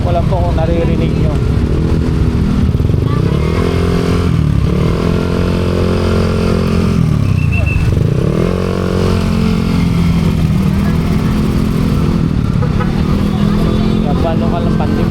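Motorcycle engines rumble steadily and close by in road traffic near a pet market, with revving swells rising and falling over the whole stretch and a voice talking over the noise.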